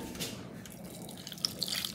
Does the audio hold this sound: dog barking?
no